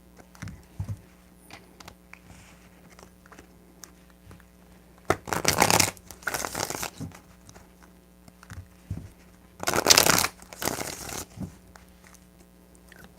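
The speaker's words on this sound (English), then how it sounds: "3 shuffles." Tarot cards are shuffled in two distinct riffling bursts, each about a second long, with quieter handling taps and rustles between them in a quiet room.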